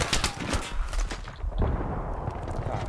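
Rapid gunfire in the video game Battlefield crackles in dense bursts over steady battlefield rumble, heavy at first and then thinning out, with no talk.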